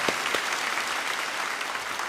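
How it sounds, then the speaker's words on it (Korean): A church congregation claps during an early-morning revival service, a steady, fairly faint wash of applause across the room with no voices over it. "이번 여름 우리를 통해 일하신 하나님께 다시 한번 영광의 박수를 올려드리겠습니다."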